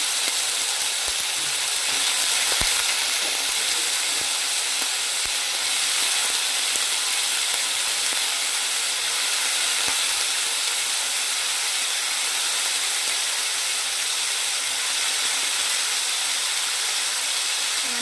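Cauliflower florets fry in hot oil in a wok, a loud, steady broadband sizzle and hiss that carries on unbroken throughout.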